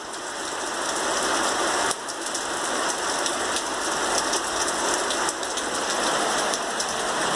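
Heavy rain from an afternoon thunderstorm in Ingolstadt pours steadily onto surfaces around a house, a loud, dense, unbroken hiss heard from under shelter with no talk.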